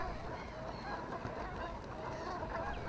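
Geese honk amid a busy, murky outdoor background, the calls faint and scattered across a few seconds of distant flock noise.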